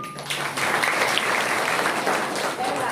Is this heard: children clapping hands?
yes